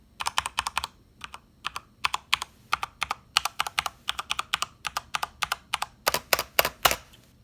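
Typing on a Corsair keyboard fitted with Cherry MX Brown switches: quick, crisp, close-up keystroke clicks in irregular bursts, a faster flurry near the end, with no voices.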